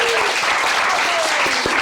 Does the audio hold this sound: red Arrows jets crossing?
no